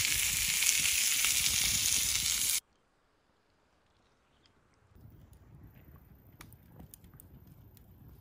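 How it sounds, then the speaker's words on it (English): Steaks sizzle on a griddle over a campfire, a bright hissing crackle for a couple of seconds, then a cut to quieter outdoor ambience with faint pops and movement. "Putting steaks on the fire."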